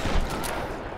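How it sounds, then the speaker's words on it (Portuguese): A SPAS shotgun blast fired in the Tomb Raider video game, a single loud dense burst filling the second with a heavy low boom and noisy crackle, no voices. "matei o maldito com um tiro de spaz"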